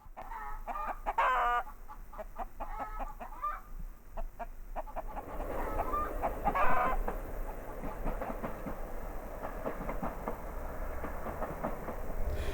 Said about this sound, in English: Oh, look, a chicken! And a cockerel.